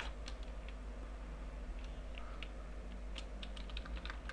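Typing on a computer keyboard while a folder is named, heard as a scattered run of light, quick key clicks over a loud, steady low hum.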